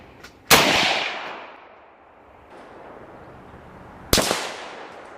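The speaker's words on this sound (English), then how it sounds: "Firing. Here we go. Shooting." Two sharp, loud gunshots from a firearm at an outdoor shooting range, the second about three and a half seconds after the first, each followed by a ringing echo that fades away.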